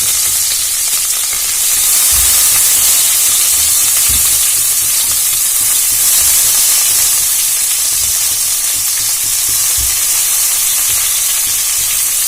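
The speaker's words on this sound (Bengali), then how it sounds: "জলটা ভালো করে ঝরিয়ে আমচুরগুলো দিয়ে ভেজে নেব।" Dried green mango pieces, amchur, fry with chili in hot oil, giving a dense continuous sizzle and hiss with a few low knocks of stirring, loud and close with no voices.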